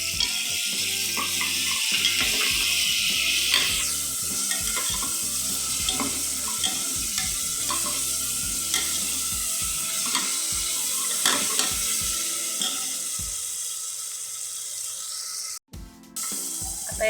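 Ginger garlic paste sizzles in hot oil in a pan while a spoon stirs and scrapes it steadily, close and continuous, easing toward quieter frying near the end, with no talking.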